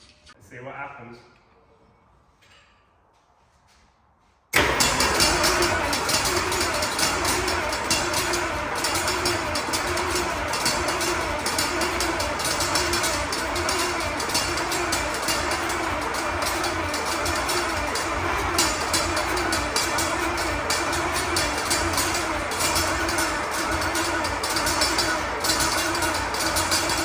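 An M60 tank engine with an apparent fault starts after a few seconds of quiet, then runs as a loud, rough, steady roar for the rest of the clip.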